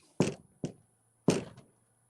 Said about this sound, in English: I'm going to knock 3 times.